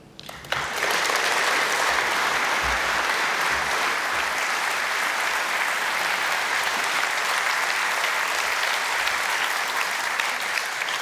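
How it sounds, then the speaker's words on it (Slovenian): A large audience at a Slovenian business awards ceremony breaks into sustained applause, starting abruptly after a brief pause and holding steady and dense, with no talking, for about ten seconds. "Zaslužite si veliko spoštovanje, priznanje in seveda aplavz."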